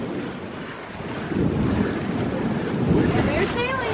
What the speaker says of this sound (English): We're sailing. We are sailing.